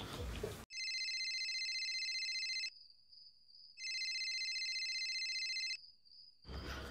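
Outgoing phone call ringback: two long electronic ring bursts, each about two seconds, separated by a short pause with a faint thin tone, heard close and clear between brief background noise.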